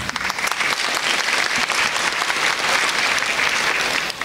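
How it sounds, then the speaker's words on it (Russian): Dense, sustained applause from an audience at a KVN comedy competition quarterfinal, many hands clapping steadily for a few seconds at close range. "Приятно, когда аплодируют, когда еще ничего не сказал."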